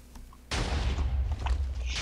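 TNT cannon explosions in the Minecraft video game, a sudden loud booming blast that rolls on with rumbling debris, close and dominant.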